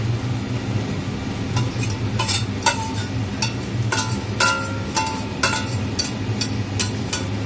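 Fried potatoes and rice being stirred with spices in a pan: repeated metallic clinks and scrapes of a spatula against the pan in an uneven rhythm over a steady low hum, with no talking.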